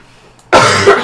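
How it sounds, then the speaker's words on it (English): A single sharp, loud cough bursts out close to the microphone after near silence, from an adult still getting over a cold. "I still have a bit of a cough left"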